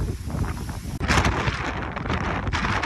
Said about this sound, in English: the wind is so blowy up here